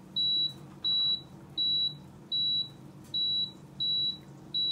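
A Power XL grill timer gives a string of evenly spaced high electronic beeps, seven in a row, close and clear over a low steady hum.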